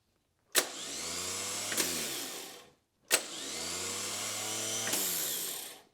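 A vehicle's starter motor cranks from a portable battery booster in two separate bursts of about two seconds each. Each burst is a loud, steady whirring drone that starts and stops abruptly, with a short silence between them.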